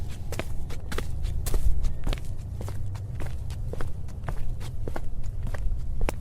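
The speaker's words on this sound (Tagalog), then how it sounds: "Kasunod naman ay ang tunog ng mga yabag na papalapit sa aking kwarto." Footsteps approaching a bedroom in an apartment at night, a steady run of fairly quick, close steps tapping continuously over a low background rumble.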